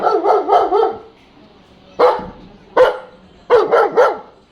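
A dog barks in bursts: a quick run of four barks, a pause, two single barks, then another close pair, loud and near with quiet gaps between.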